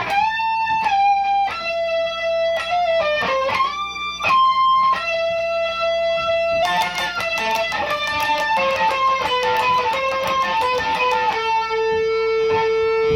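An electric guitar plays the melodic lead solo phrase from a song, picked and sustained notes, shifting to denser, brighter playing midway, with no talking.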